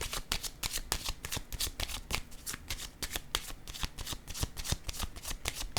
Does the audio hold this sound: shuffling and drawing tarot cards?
yes